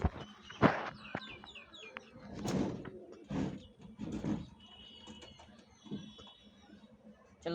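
Pigeons in a pigeon loft, with soft coos and wing or cage rustles rising in several bursts, mixed with nearby handling noises and scattered chirps.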